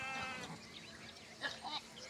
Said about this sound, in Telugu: చూడండి ఫ్రెండ్స్ మేకలు తక్కువ ఉన్నాయి గొర్ర మందనే ఉంది ఇది ఎక్కువ